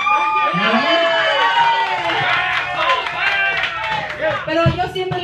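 Audience at a live variety show applauding and cheering for a performer named Eddie, a dense crowd roar with clapping, whistles and shouting voices layered over it, loud and continuous.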